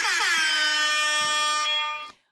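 An air horn sound effect blasts loud and close in one long sustained note that bends slightly in pitch at the start, then cuts off abruptly after about two seconds.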